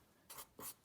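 Quick strokes of writing on a board or paper during a math lesson, two short scratchy bursts close and fairly faint, with no talking.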